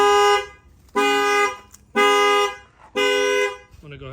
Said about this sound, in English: you can see that this time the factory alarm does go off